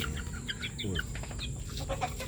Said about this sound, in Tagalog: Ang manok ni Aling Mimay